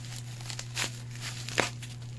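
A wrapped package is opened, its wrapper crinkling and tearing softly in a few brief rustles over a low steady hum, fairly quiet and close.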